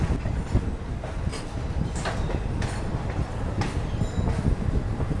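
The Digha Express rolling along the rails after leaving Rampurhat Junction, a continuous rumbling clatter of wheels and carriages with periodic clicks and brief squeals, close and steady throughout.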